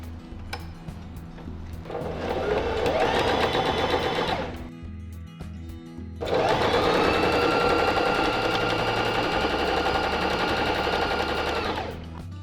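A Pfaff Smarter 140S sewing machine stitches in two close, loud bursts of rapid rhythmic needle clatter, with a short pause and a few clicks between them.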